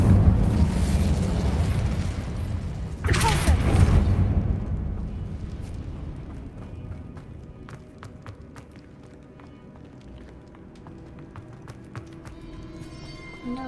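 Incendio fire spell cast in the video game Hogwarts Legacy, a sudden loud fiery burst over a dense rumbling game soundscape that settles into quieter ambience with scattered small clicks.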